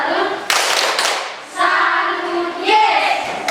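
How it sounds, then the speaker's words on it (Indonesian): Classroom clapping from students after a correct answer, a burst of hand claps with children's voices and teacher talk mixed in, fairly close and loud. "Tepuk tangan dulu."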